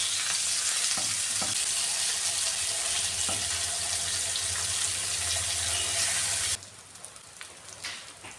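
Fish fillets frying in hot oil in a pan, a loud steady sizzle with a few soft knocks as pieces are turned, the sizzle dropping abruptly to a quieter crackle near the end.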